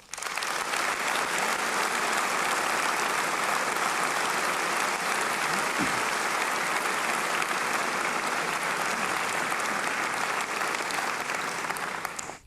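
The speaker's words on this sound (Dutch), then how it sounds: "12 seconden applaus voor het afbouwen van de hypotheekrenteaftrek" Sustained applause from a large crowd at a political party congress, dense and steady for about twelve seconds before tapering off at the end.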